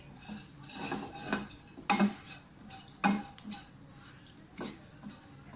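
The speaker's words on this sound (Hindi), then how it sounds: "और साथ ही जो हमारे साबुत सारे मसाले हैं वो चले जाएंगे इसमें। इनको थोड़ा सा सौते करें।" Whole spices sauté in oil in a pan for zeera rice, with several clanks and scrapes of a spoon against the pan over a soft background sizzle.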